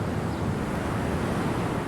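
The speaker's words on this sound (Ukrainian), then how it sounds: "вітерець гарно так обдуває" Steady sea breeze buffeting the microphone on the open Red Sea coast near Hurghada, Egypt, a constant dense roar of wind with possible surf underneath, loud and unbroken throughout.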